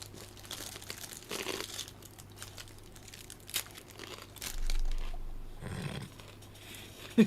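Fortune cookies crunch and crinkle in irregular bursts close to the mic, a series of brittle snaps and wrapper rustles with quieter gaps between bites and no talking.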